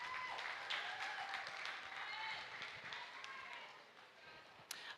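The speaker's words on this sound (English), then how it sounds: "Please give them a round of applause." Spectators at a pygmy goat show give a faint, distant round of applause for the exhibitors, a soft, steady patter of clapping with voices talking over it.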